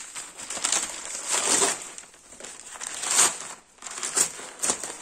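Gift wrapping paper crinkles and crushes in bursts while presents from a graduation party are unwrapped, a close, rustling, papery sound with no talk.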